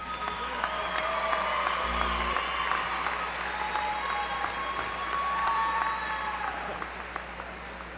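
Sustained applause from a large commencement audience honoring university graduates, a dense steady wash of clapping filling a big hall, with a faint amplified voice underneath.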